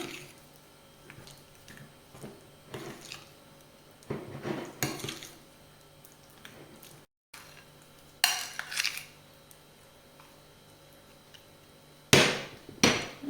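Mascarpone, strawberries and chocolate egg whites being mixed in a bowl, with soft scraping and squelching broken by several sharp knocks and clinks of utensil against the bowl.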